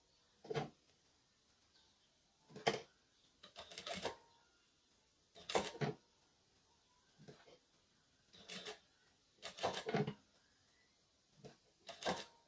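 A sewing machine stitches a fabric toiletry pouch in several short bursts of whirring needle action, separated by brief pauses, close and moderately loud.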